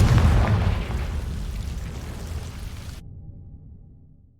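A Confringo explosive spell in Hogwarts Legacy goes off as a single loud, close boom that rumbles and decays over a few seconds before cutting off.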